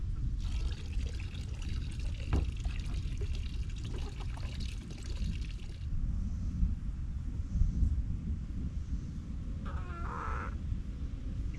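Water pouring out of a storage barrel into another container outdoors, a steady low gushing splash through most of the stretch, close and fairly quiet, with faint outdoor background and a brief higher clink near the end.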